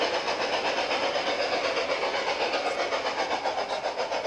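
A garden railway model train running outdoors, a steady dense rumble and hiss with faint rhythmic clatter, continuous and even throughout.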